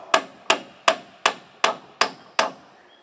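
Seven sharp, evenly spaced hammer blows drive nails into wall sheathing on a firewood shed, each strike close and loud with a short ringing decay, no talking.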